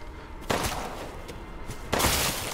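Gunfire in the video game Resident Evil Village: two loud, sharp shots about a second and a half apart, each with a short echoing tail, and a fainter report between them.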